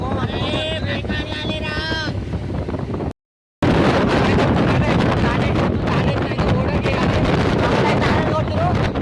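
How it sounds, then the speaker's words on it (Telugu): Strong wind buffets the microphone in a loud, continuous roar, with a voice heard briefly at the start over the rushing noise. "గాలి అయితే విపరీతంగా వస్తుంది"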